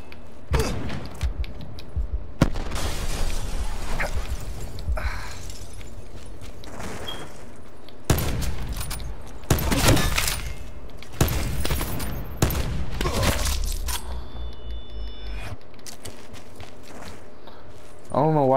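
Annihilator weapon firing in Black Ops 4, heavy loud blasts in separated bursts with clanking mechanical handling and footsteps between them, while players talk over it.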